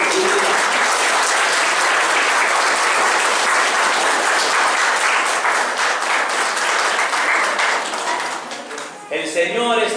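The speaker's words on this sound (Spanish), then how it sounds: "Les pido un fuerte aplauso para Cherlín" Loud, sustained applause from a church congregation at a sixteenth-birthday Mass in Santa Clara, Santo Domingo, SLP, filling most of the moment before thinning out near the end, with a voice briefly heard.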